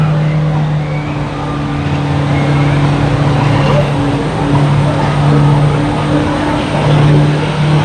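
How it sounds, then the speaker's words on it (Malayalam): A car engine drones close by at an auto show with a steady low hum that swells slightly, with faint voices underneath. "എടാ സുലേ വണ്ടി വരുന്നുണ്ട്"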